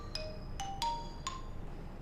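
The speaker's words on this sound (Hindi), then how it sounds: "तुम्हारा फोन बज रहा है" A phone ringing indoors: a few short, bright tonal chimes spaced irregularly over two seconds, moderately loud over a low background hum, with no talking.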